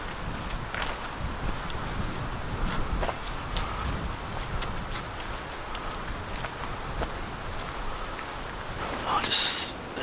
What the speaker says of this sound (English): It's windy, but it's not a cold wind today.